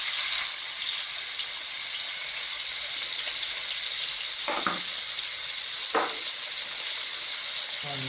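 Garlic, sun-dried tomatoes and chili flakes fry in reused oil with a steady, close broadband sizzle throughout, broken by two brief scraping stirs midway.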